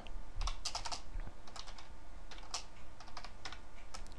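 Keys clatter in irregular bursts on a computer keyboard, close and quiet, with short pauses between flurries of typing.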